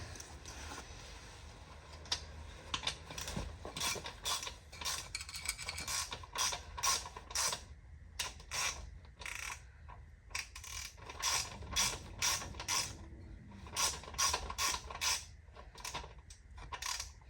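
A nut is tightened by hand on a Honda CB200 motorcycle engine, with a steady run of close ratchet clicks and metallic creaks repeating through the whole span.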